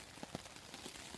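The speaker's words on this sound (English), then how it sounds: "It's raining a bit, so you can probably hear." Light rain pattering on a hammock camp in the woods, a few soft, faint drops tapping irregularly over a quiet background.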